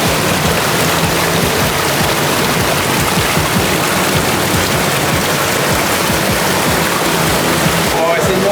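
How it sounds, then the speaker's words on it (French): A small waterfall inside an anthracite mine gives a loud, steady rushing splash of water that fills the whole space, close by and without pause. "Regardez la petite cascade, elle est là."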